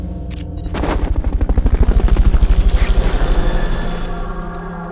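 Helicopter in the video game Metal Gear Solid Peace Walker, a loud, close rotor chopping in a fast, steady rhythm that builds quickly and holds, with no speech.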